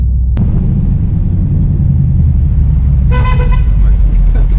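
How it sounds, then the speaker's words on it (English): A 1968 Camaro's horn honks in one short toot of steady stacked tones near the end, over a loud continuous engine and road rumble inside the moving car. "I think I did that on purpose, honking at her."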